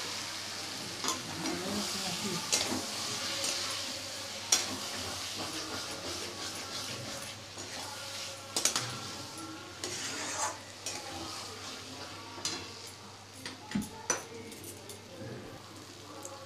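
Kidney beans sautéed in oil with a little sugar are stirred in a pan, giving a quiet, continuous sizzle broken by irregular scraping strokes of the spoon.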